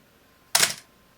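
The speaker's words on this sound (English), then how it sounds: "activate the shutter button, we can see the little red light blinking right there, and we can watch as it completes the cycle." A Canon AE-1 35mm film SLR with a 50mm lens fires its shutter once, a single crisp close mechanical snap that fades quickly in a quiet room.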